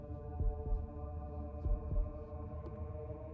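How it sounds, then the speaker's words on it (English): A low, soft double-thump heartbeat from the video game One Wish pulses several times over a steady background hum, faint and muffled with no voices. "Heartbeat?"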